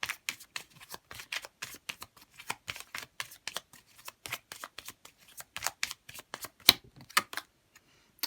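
Tarot cards are shuffled by hand in rapid, crisp riffles and slaps, close and dry, with short pauses between bursts and no talking.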